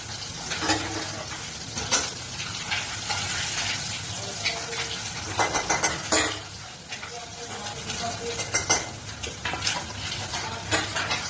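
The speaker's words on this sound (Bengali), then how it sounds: "পরের মাছগুলো উল্টে দিচ্ছি।" Frying fish sizzles in a pan, broken by clinks, scrapes and sharp spatters as pieces are turned over; some background voices.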